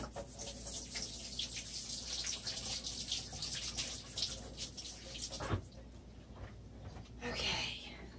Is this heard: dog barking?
no